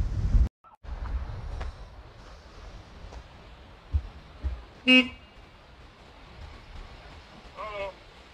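A car horn gives a short, sharp honk near the middle, then a fainter second toot near the end, over outdoor wind noise and a distant street hum.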